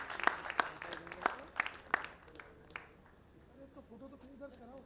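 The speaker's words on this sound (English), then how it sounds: "Please give her a big round of applause, Kriti." Scattered, fairly sparse clapping from a small audience at a felicitation ceremony in Jaipur, a handful of distinct claps that fade out as a voice begins talking.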